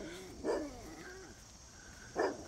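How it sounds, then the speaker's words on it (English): Dog on a farm barking from a short distance, two distinct barks about two seconds apart over quiet outdoor background. "He's barking, but he's got that tail a wagging."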